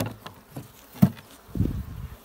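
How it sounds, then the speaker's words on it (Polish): Honeybees at an apiary hive during spring swarming season make a soft, close insect buzz with scattered ticks and bumps, rising briefly louder near the end. "Jest pszczoły dużo."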